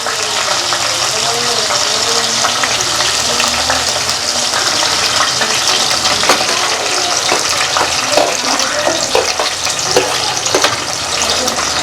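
Onions and green chillies sizzling in a hot pan, a steady loud frying hiss throughout with faint stirring scrapes.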